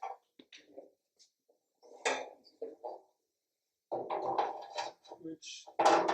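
Metal drip pan for a Yoder YS640S pellet grill being slid and set into place, scattered clanks and scrapes of sheet metal close by, with someone talking between them.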